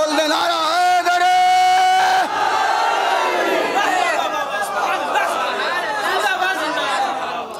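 A large crowd at a religious gathering honoring Maula Ali roars a chanted slogan in unison, loud and close, with one strong sustained voice leading before many voices swell together.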